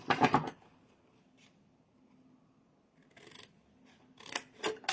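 Scissors cutting material for a table decoration: a few crisp snips and rustles, close and fairly quiet, with short bursts of louder handling at the start and end.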